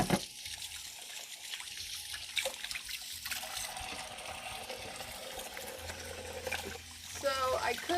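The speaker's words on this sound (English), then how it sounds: "Wash my hands." A running kitchen tap splashes and trickles as hands are washed under it, a steady close stream of water with a person talking over it.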